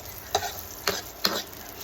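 Milkfish (bangus) sautés in turmeric-yellowed oil with a soft, constant sizzle, broken by three sharp scrapes of a stirring utensil against the pan at roughly even intervals.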